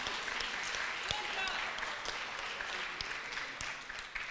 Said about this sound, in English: please give them a round of applause one more time for working hard